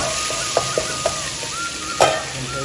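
Ginger, curry leaves and green chili sizzle in a pan for a vegetable pulao, a steady bright hiss broken by a few light stirring clicks and one louder scrape, close up with no speech.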